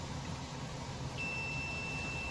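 A steady continuity tester beep, checking compressor wiring, starts partway through and holds continuously over a low background hum.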